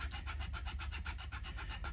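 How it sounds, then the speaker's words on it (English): A nut file rasps back and forth in the nut slot of an LTD Bill Kelliher BK 600 guitar, quick even strokes repeating up close and fairly soft. "nut file."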